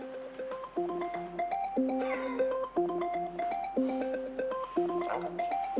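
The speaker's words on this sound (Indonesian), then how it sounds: "Tuh, handphone lu bunyi." A mobile phone rings with a melodic ringtone, a bright electronic phrase repeating about every second and a half. It plays loud and steady with no talking over it.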